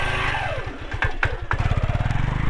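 A motorcycle engine putters unevenly during a beginner's riding lesson by the Padma river, its rapid firing pulses rising and dipping as the throttle is eased, close and moderately loud without talk.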